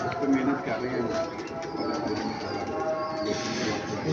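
Racing pigeons kept by a pigeon fancier coo softly in a loft, low murmuring calls running under someone speaking close by, with a continuous background hum.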